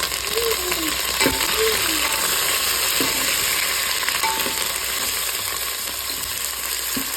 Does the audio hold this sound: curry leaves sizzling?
yes